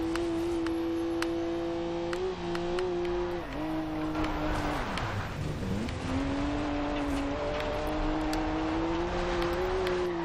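A video game car engine held at wide open throttle, a loud steady flat-out drone that dips briefly mid-way while the car slows and drifts through dirt, then climbs back up, with no talk over it.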